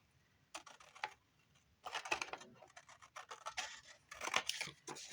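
Scissors snip through paper in three close bursts of scratchy cutting, soft and intermittent, with short pauses between strokes and no voice.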